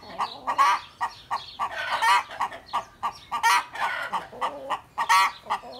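Chickens cluck and squawk close by in quick, repeated bursts, a busy stream of agitated calls with no talking.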